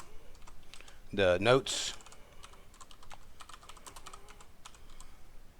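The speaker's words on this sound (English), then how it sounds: "As you can see, I don't type very well" Clicking computer-keyboard keystrokes tap out in an irregular, close stream while a task description is typed, with a short burst of speech early on.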